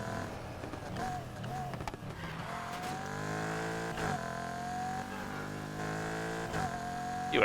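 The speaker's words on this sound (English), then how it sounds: "God, I love this car. This car sounds so good." A car engine in the racing video game Need for Speed Heat hums and revs steadily with tonal shifts through gears, heard under someone talking over the gameplay.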